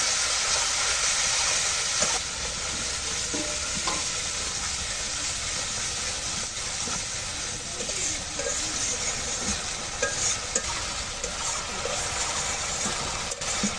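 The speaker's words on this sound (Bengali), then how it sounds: "আমি মশলাগুলো একটু হালকা ভেজে নেব।" Whole spices including cinnamon frying and being stirred in a pan for a vegetarian soybean bhuna with potato and jackfruit seeds, a steady close sizzle and hiss with light scraping from the stirring, continuous and fairly loud throughout.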